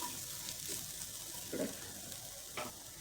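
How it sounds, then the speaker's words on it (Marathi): Masala sautéing in a pan for a traditional Bhogi mixed vegetable dish, a soft, faint, steady sizzle with occasional light scrapes of stirring, no talk. "मिनिटभरात छान परतलेला आहे मसाला"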